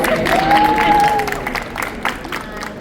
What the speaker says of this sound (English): Can we please give them a hand of what? A round of applause.